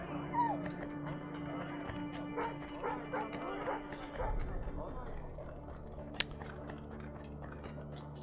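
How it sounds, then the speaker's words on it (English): A puppy in Assassin's Creed Rogue lets out soft whimpers and small yips, faint and intermittent beneath someone talking and low game ambience. "Oh, it's a puppy."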